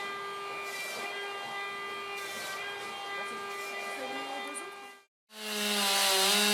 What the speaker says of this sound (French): des coups de tronçonneuse sont faits tous les 20 cm pour faciliter le retrait des dosses à la cognée